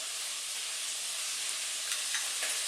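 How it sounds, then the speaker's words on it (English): Bacon sizzles in a pan with a steady hiss and faint crackles, continuous and close, with no talking. "our bacon's cooking away there"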